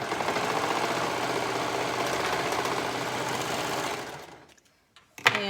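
A sewing machine stitches a pocket into a side seam of a garment, a rapid, even mechanical chatter for about four seconds before stopping, then a couple of small clicks.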